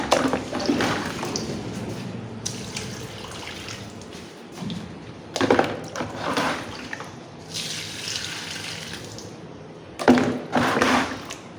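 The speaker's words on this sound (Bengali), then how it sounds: "গাছগুলোর মধ্যে দিব পানি।" Water poured from a container onto three potted plants in a corridor, arriving in several splashing bursts with short pauses between them.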